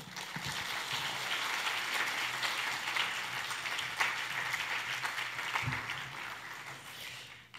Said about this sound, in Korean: 나오실 때 박수해 주십시오